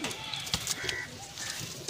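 Domestic pigeon cooing close by, soft low throaty calls over a short stretch with light rustling around them.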